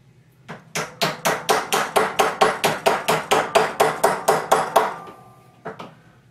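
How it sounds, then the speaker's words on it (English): Hammer blows flattening the flat part of a metal knife glove, about fifteen sharp, evenly spaced strikes in a steady close rhythm, loud and clear, then a brief pause and one final tap. "Hammer out the flat part."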